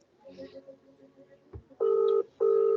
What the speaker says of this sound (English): Whoever's got that telephone ringing, can you switch off your mic, please?